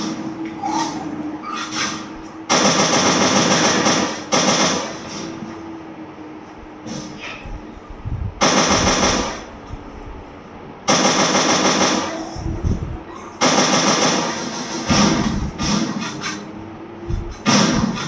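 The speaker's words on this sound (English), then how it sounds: "guys এটা কিন্তু AK-47" Rapid bursts of AK-47 automatic fire in a video game, loud repeated volleys lasting a second or two each, separated by gaps with background game sounds.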